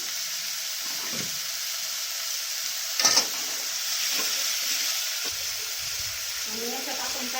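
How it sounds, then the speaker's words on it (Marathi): Dill leaves frying in oil for a tangy dill and spinach vegetable dish, a soft steady sizzle with scattered spoon scrapes and one sharp clink, while a voice speaks faintly in places. "शेपू पण या तेलाचं चांगलं फ्राय करून घेऊया"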